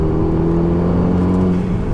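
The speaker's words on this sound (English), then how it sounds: "Wow, those gear changes" A 290 bhp Renault Mégane R26 F1 track car's engine whirs at high revs with steady tonal lines, a slight shift in pitch hinting at a gear change.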